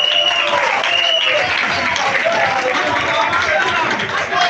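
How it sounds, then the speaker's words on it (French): A crowd at a PDCI political rally in Côte d'Ivoire breaks into loud, dense applause, a sustained wash of clapping and cheering that holds at full strength throughout. "On applaudit."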